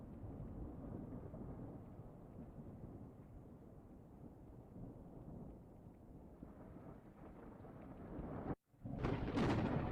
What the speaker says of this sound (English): Let me know if you can hear the lightning and the thunder.